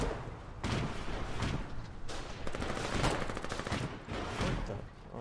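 Rapid gunfire in the War 98 shooter, clustered bursts of sharp cracks and rattling automatic fire, loud and dense with brief gaps between volleys.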